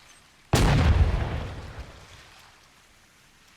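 A single loud in-game gunshot fired from a boat in the naval combat game Holdfast, a sharp boom with a long rumbling decay that fades over about three seconds, with no talk over it.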